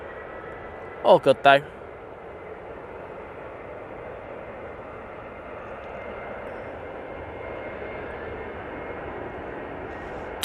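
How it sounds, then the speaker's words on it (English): Aer Lingus Airbus A330 making a smoky touchdown at Manchester Airport, heard as a steady, distant broadband roar that holds for the whole stretch, with a brief burst of nearby talk near the start. "Smoky touchdown there from the Aer Lingus A330."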